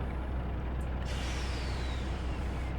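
Air brake on a Class 35 diesel locomotive in the Train Simulator 2020 game, a steady loud hiss of escaping air over a low rumble, with a sharper burst of release about a second in.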